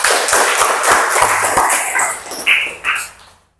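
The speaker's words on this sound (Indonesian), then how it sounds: "Ya, tepuk tangan semuanya." A class of students claps together in a dense burst of applause that fades out over a few seconds.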